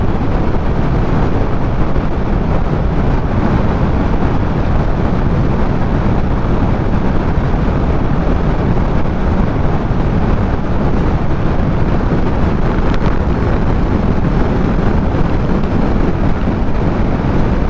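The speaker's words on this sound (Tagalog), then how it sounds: "Lakas ng hangin." Strong wind roars steadily and loudly into the microphone of a moving motorcycle, a Click 125i scooter or TVS Dazz 110, as a constant broadband rush with no pauses and no talk.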